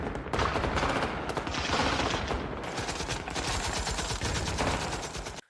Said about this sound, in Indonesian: Baku tembak tidak dapat dihindari. Pertempuran hebat terjadi malam itu.